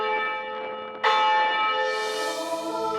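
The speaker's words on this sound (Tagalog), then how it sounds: "Pero kapag umalingaw-ngaw na ang mga kampana mula sa kampanaryo nito," Church bells ring out from a bell tower, a loud struck peal entering after a quieter ringing tone and sustaining with rich, lingering overtones, heard alone without talk.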